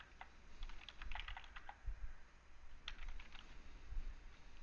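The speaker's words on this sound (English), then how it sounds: "I know I'm not typing a whole lot on my Word document" Close, fast typing on a computer keyboard while writing in a Word document, with clusters of light clicks and brief pauses between bursts over a faint low hum.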